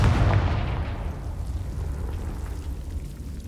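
A Confringo blasting spell goes off in Hogwarts Legacy, a loud booming burst at the start that fades into a long rumbling, crackling decay with no talking.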